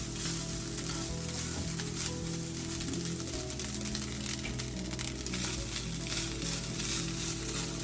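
Garlic rice frying in virgin coconut oil, a continuous close sizzle with a soft crackling texture and a low steady hum underneath, no talking.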